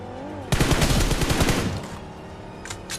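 Rapid automatic gunfire from a BGMI battle royale match, a dense burst of shots lasting about a second, followed by a couple of fainter distant pops.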